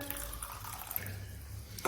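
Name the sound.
water poured into a 100 ml beaker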